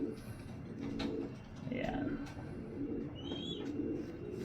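Racing pigeons coo in low, soft murmurs against steady background noise, with a person talking briefly over them.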